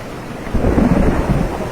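Storm sound effect of rain and thunder, a low rolling rumble of thunder that swells in midway over a steady wash of falling rain, loud and close, with no voices.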